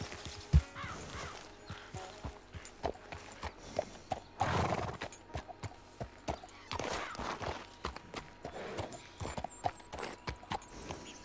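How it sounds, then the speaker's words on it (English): A wild horse in the game Red Dead Redemption 2 whinnies loudly amid repeated clip-clopping hooves and scattered thuds, the hoofbeats steady and close throughout. "It's just a wild horse, I guess."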